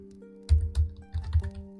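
Computer keyboard typing while C++ code is written: a short run of distinct, moderately loud keystrokes in small clusters over a steady low hum, with no voices.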